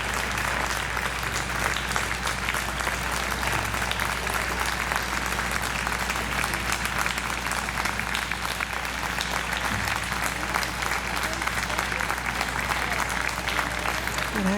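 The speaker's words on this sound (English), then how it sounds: "Everyone's standing up and clapping" A standing crowd at a gun regulation rally in Haddon Heights claps loudly and continuously, a thick, steady wash of applause with faint voices mixed in.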